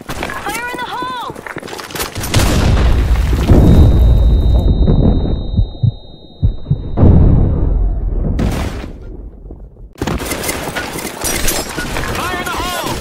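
Grenade explosion in the Blackshot online shooter game: a loud, sudden blast with a long booming, crackling tail that fades over several seconds, followed by scattered clatter, with voice callouts and game chatter around it.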